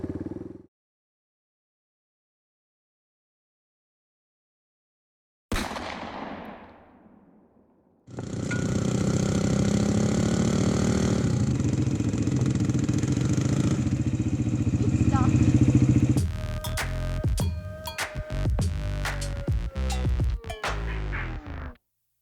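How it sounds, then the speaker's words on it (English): A dirt bike ridden off-road on a trail, with a steady, close engine drone that holds for several seconds before breaking into rougher, choppier revving bursts after a stretch of near silence at the start. "this is actually the first time I've ever ridden a dirt bike"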